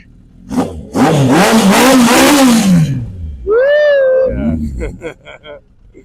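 A 1980 Honda CB750 cafe racer motorcycle engine revs loudly and close for about two seconds, winding up and falling away, followed by people talking nearby.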